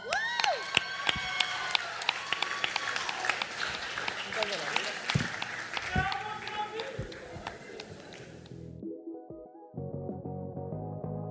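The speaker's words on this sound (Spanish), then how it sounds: "Vamos a recibir a Xavi con un fuerte aplauso." A school concert crowd applauds and cheers to welcome a student singer, a dense burst of clapping and shouts that fades away and gives way to a voice over a quieter room.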